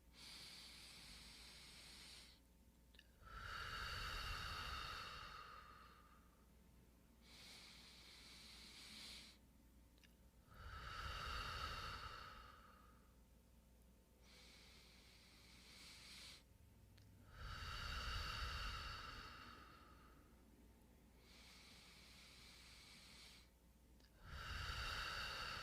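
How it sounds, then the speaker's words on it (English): Slow deep breathing, in through the nose and out through the mouth, during a guided breathing exercise: long airy breaths recurring every several seconds, close and clear against quiet room tone. "Let's take 10 breaths in and out, in through the nose, out through the mouth"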